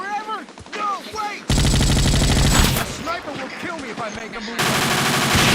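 Rapid automatic gunfire in the video game Vietcong 2, loud bursts of shots rattling in quick succession with dense sustained stretches, mixed with a player's excited voice in between.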